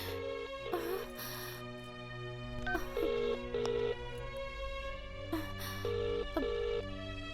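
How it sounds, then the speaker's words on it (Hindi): An unanswered call rings out over a phone on speakerphone: a repeating electronic ring pattern in steady bursts over a constant background hum. "कोई फोन नहीं उठा रहा है"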